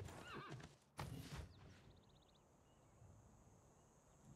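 A horse in the game Civilization 6 whinnies loudly, followed by a snort and a few quick hoof clops, then quiet ambience with faint insect chirps.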